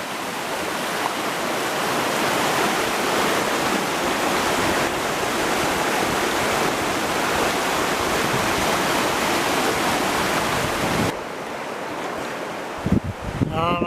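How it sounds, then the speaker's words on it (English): Fast river water rushing through rapids at a fly-fishing spot, a loud, steady roar close by that continues throughout, dropping slightly near the end, where a brief knock or handling sound comes through. "Certainly some water pushing down through here."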